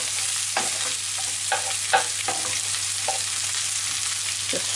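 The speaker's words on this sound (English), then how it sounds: "Just fry off the onions and the garlic a little bit" Chopped onions and garlic fry in a pan over medium heat beside lamb chops, giving a steady hiss of sizzling broken by occasional soft clicks of stirring.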